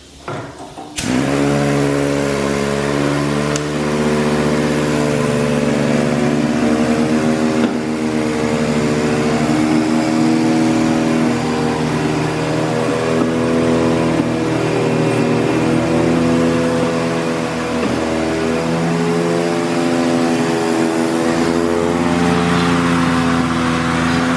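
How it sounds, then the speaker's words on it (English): Kaps-All E4-X four-spindle explosion-proof capper with single-phase electrics running steadily, a loud continuous mechanical hum and whine with strong tonal harmonics sustained throughout, no talking. "This is the Kaps-All E4-X 4-spindle explosion-proof capper with single-phase electrics"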